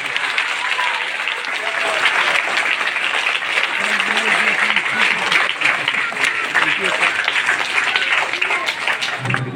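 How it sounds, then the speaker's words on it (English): A crowd claps steadily at a school foundation day gathering, dense applause holding evenly loud throughout with a few voices mixed in. "Can we all clap our hands?"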